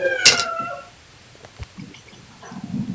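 A cat lets out a loud, short meow up close, followed by quieter indoor background noise and a faint, murmuring sound toward the end.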